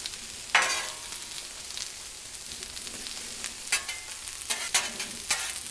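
Chicken cooking in olive oil on a Blackstone griddle, a steady soft sizzle with a few sharper scraping or stirring hits, no talk.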